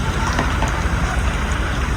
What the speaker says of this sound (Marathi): अख्खा चालू झालाय पाऊस